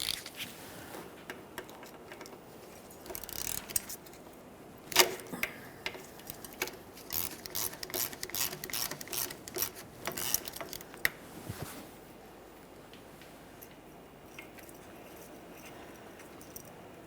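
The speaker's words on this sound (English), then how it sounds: "We can remove that mounting bolt." A 13mm mounting bolt on the parking brake cable bracket under a 1999-2006 Chevrolet Silverado 1500 is worked loose, giving a run of faint, irregular metallic ticks and ratcheting clicks with brief louder knocks.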